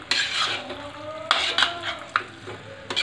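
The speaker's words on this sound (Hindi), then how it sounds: "पास्ते को इस तरीके से मिलाना है इसमें।" Pasta being stirred into white sauce in a pan, a soft wet sizzling bed broken by several sharp scrapes and clinks of a utensil against the pan, close and alone.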